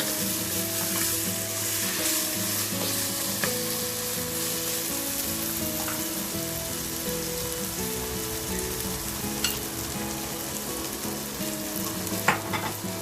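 Garlic and ginger fry in a hot pan for curried chickpeas, a loud steady sizzle close up with occasional stirring clicks and no talking.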